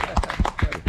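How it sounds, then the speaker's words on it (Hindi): A small group in a park claps for an 85-year-old man, with quick, uneven claps close by for under a second. "सब लोग ताली बजाएं इनके लिए"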